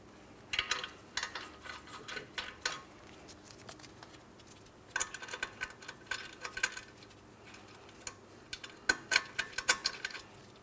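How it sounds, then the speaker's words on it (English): Metal hardware clinks and rattles in three short clusters while strut mounting nuts are started by hand on a 2004-2008 Pontiac Grand Prix rear strut and spring assembly, with quiet pauses in between and no talk. "Continuing on, we'll start on both mounting nuts."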